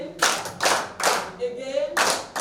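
A group of trainees at a financial education session in Osogbo, Osun State claps together in unison, a few loud synchronized bursts spaced irregularly, with vocal sounds and a brief rising whoop between claps.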